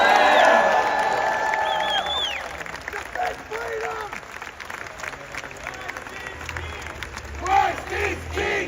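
A crowd at an anti-abortion street protest in Sydney cheers and claps loudly, with whoops and shouts, easing into scattered clapping and calls before another swell of cheering.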